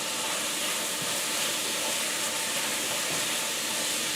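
Seasoning and butter sizzle steadily in a frying pan while garlic butter scallops cook, a dense, even hiss that holds at the same level throughout, up close and on its own with no one talking.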